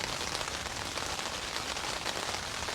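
Steady, dense patter of rain falling on a dome tent during a Swedish summer day, heard from inside as a close, even hiss with no pauses or voices.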